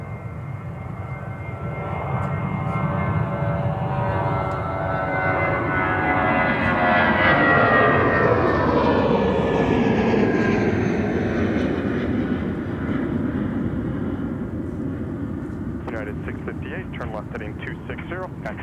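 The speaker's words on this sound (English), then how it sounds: "Let's watch and listen to this United departure here" A United airliner taking off from Minneapolis–St. Paul airport, its jet engines a loud sustained roar that swells to a peak and slowly recedes into the distance, with radio chatter coming in near the end.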